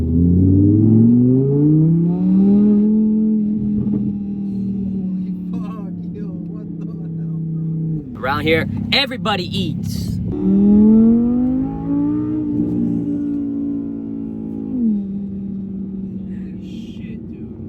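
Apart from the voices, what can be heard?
V10 car engine accelerating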